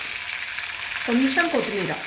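Dried red chillies and curry leaves fry in hot oil for a lentil dish, giving a continuous close sizzle, with a voice speaking briefly over it.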